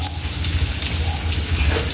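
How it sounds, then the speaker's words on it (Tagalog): Water runs from a kitchen tap into a pot of mung beans, a steady close splashing and gurgling that lasts for a couple of seconds with no talking. "At lagyan ng tubig."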